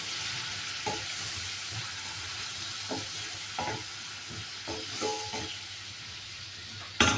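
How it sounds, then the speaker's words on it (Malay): Dried chili paste hitting hot sautéing oil in a pan, frying with a steady bright sizzle, broken by several soft stirring scrapes and a sharp clatter at the end. "Mami nak masuk cili kering punya paste ke dalam apa tumisan tadi tu"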